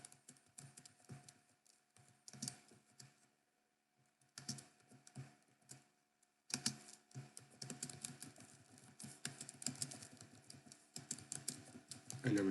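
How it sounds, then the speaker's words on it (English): A computer keyboard clatters as Flutter code is typed out, with quick irregular runs of keystrokes broken by short pauses, close and clear, growing denser and busier toward the end. "So we can type this out now."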